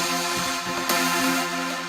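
A heavily altered, EQ-shaped synth in FL Studio from a track plays a dense, sustained chord with a brief bright accent partway through, heard alone with no talk.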